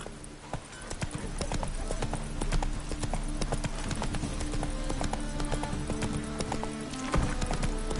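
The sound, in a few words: horse Roach galloping in The Witcher 3 video game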